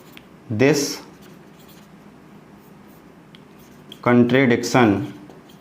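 Pen or chalk writing during a maths lesson, with brief scratchy strokes heard in two short bursts, separated by quiet, while a teacher speaks nearby.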